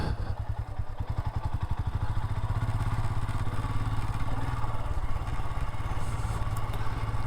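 A fully loaded Royal Enfield Himalayan adventure motorcycle rides along with a steady, throbbing engine drone and a fast pulsing exhaust beat, joined by occasional clatter and thumps from the bike and luggage. The sound is loud and continuous throughout.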